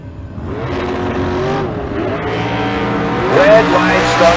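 Drag racing cars, a Corvette and a Vega, rev and launch at a bracket race at Tucson Dragway, their engines roaring loud and rising in pitch under an announcer's talk.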